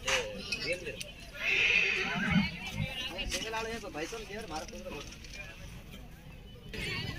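Horses at the Ransi horse show in 2024, with mares and foals present: a whinny rises amid an outdoor crowd murmur, someone talks throughout, and faint hoof and handling noises mix in.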